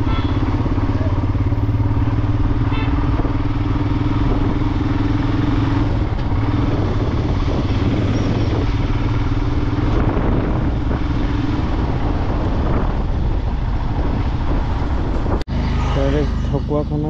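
Motorcycle riding along a road in Assam, engine and road noise steady and loud throughout with heavy wind buffeting on the microphone; a brief bump near the end.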